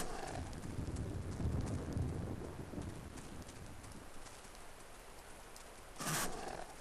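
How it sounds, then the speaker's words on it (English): Donkey hooves clop in Clive Barker's Undying, a game set in a rainy outdoor scene. The steady hoof falls sit under rain and wind noise for several seconds, followed by a brief louder burst near the end. "Donkey, donkey, donkey."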